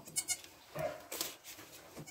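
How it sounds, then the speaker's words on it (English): Nigerian dwarf goats, including newborn kids, bleat in several short, faint calls spaced across a quiet barnyard scene. "More baby goats for me to play with."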